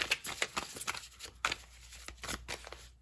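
A deck of tarot cards is shuffled by hand, close and quiet, in a series of soft riffling bursts with short pauses between them.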